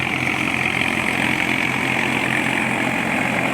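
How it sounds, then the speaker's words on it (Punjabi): An 855 tractor engine runs steadily at a near, loud idle, a constant mid-to-low rumble and drone without breaks or speech. "ਚੈੱਕ ਕਰੋ ਚੈੱਕ ਕਰੋ ਬਾਜ ਚੈੱਕ ਕਰੋ ਟਰੈਕਟਰ ਦੀ"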